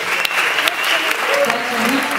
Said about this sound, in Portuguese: eu quero uma salva de palmas ainda maior para esta senhora